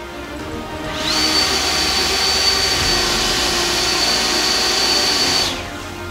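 Powerful wind machine blasting hurricane-force air at a DJI Mini 3 Pro drone, a loud steady roaring whoosh with a thin high whine that starts abruptly, holds for several seconds and cuts off.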